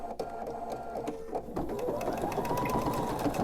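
A sewing machine runs continuously while stitching closed a short opening in a fitted crib sheet, a close, steady whirring rattle that starts with a few uneven bursts and then settles into an unbroken hum.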